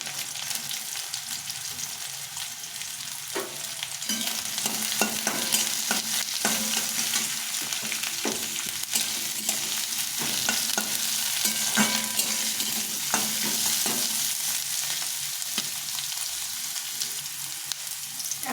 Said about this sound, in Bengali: পেঁয়াজটা একটু হালকা করে ভেজে নেব এর মধ্যে এখন গাজরটা দিয়ে দেবো